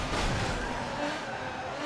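A $2 million race car in Forza Motorsport 7 roars along with a continuous engine drone and tyre noise, loud and close, while a person talks over it.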